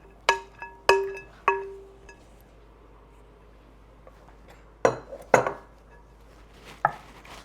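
A pineapple casserole mixture goes into a baking pan in a kitchen, heard as a few sharp metallic clinks and scrapes of a utensil against the pan in separate bursts with quiet gaps between them.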